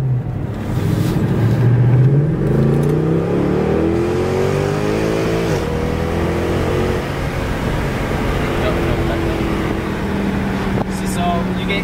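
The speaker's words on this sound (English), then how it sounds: "so engine's been warmed up, so we're gonna let this BMW go and open her up just a little bit." A 2012 Mercedes C63 AMG accelerating hard in sport mode, loud engine revs climbing in pitch through several rising sweeps, with the car heard from inside as it pulls away and keeps building speed.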